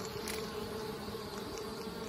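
Honeybees fly in and out of a new Anel hive on a hot day, a steady close swarm hum filling the whole stretch with no voices.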